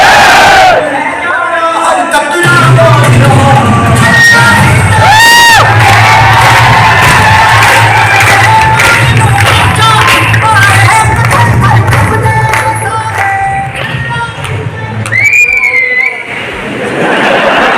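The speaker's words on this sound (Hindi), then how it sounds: "जोरदार तालियां।" A packed crowd at an Udaipur education event erupts in loud applause and cheering, with whoops, shrill whistles and shouting over a continuous roar that lasts throughout.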